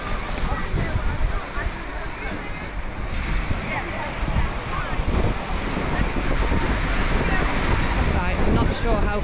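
Strong wind buffets the microphone on a seaside promenade at Prestatyn, a loud continuous roar with rumbling gusts that rise and fall and never let up.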